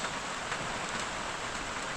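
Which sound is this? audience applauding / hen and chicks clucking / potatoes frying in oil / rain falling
rain falling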